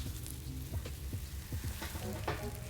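A giant batch of slime is stirred and mixed, producing close, wet squelching and sticky crackling pops in an irregular rhythm, with no talking.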